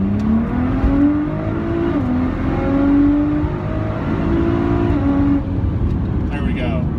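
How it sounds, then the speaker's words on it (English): A Nissan GT-R R35 accelerates hard at full throttle in traffic, its engine note climbing through second and third gear with shifts and a steady, loud roar before easing off near the end. "So I'm gonna go from second through third, and then once I shift into fourth, I'll let off."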